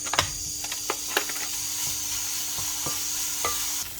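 Lardons frying in a pan after leeks, a continuous sizzle broken by repeated scraping clicks of a utensil stirring them, close and steady.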